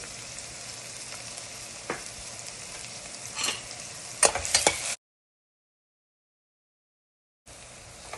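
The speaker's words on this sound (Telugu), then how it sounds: "ఈ గార్లిక్ అండ్ ఆనియన్ పీసెస్ వేసుకోవాలండి వేసుకుని బాగా ఆనియన్ గోల్డెన్ బ్రౌన్కి వచ్చేంత వరకు వేయించుకోవాలి" Garlic and onion pieces fry until golden brown for a marinara sauce, making a continuous close sizzle broken by a few stirring scrapes and clatters, then a sudden silence before the frying sound returns.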